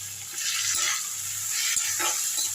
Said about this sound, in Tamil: இதை லைட்டாக வதக்கிப்போம்